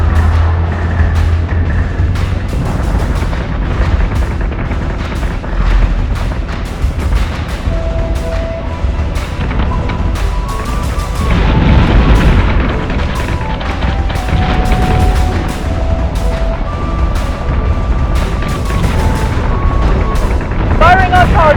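Weapons firing in a Battlestar Galactica Deadlock cutscene: heavy booms and blasts rumble under a swelling orchestral score, with a loud burst of fire near the middle.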